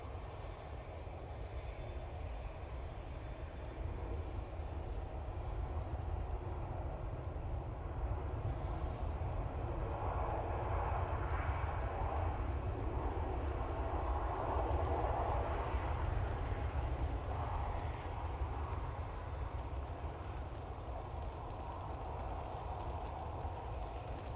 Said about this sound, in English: bit of a bump there from the KLM as it touched down